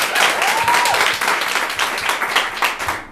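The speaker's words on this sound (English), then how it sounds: "let's clap them in, and we'll see who's going first" A live audience applauds and claps steadily to welcome guests onto the stage at a dating-advice show, with dense, close clapping throughout.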